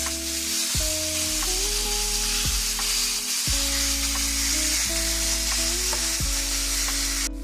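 Ground beef with onion and garlic sizzling loudly in a pan, a steady close frying hiss with scraping stirs now and then.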